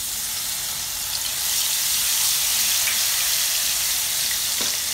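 Half a spoon of garlic paste fries in a pan over a low flame, giving a soft, steady sizzle and hiss close by, with no talking over it.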